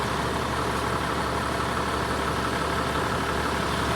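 A 30-year-old Toyota Land Cruiser 80 Series idles right after a cold start, a steady, dense engine rumble with a low throb that holds evenly throughout, close and loud with no talking.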